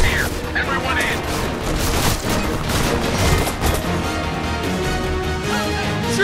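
Heavy gunfire roars through a Homefront battle, dense bursts and booming blasts rolling continuously and loudly, with shouted voices breaking through the din.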